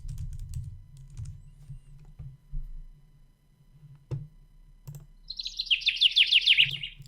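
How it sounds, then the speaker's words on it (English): Birds chirp and tweet in a quick, lively run of calls that arrives late and sounds close and clear, added as a sound effect over a low background hum with a few soft taps and clicks. "We'll put in some I don't know, birds chirping or something."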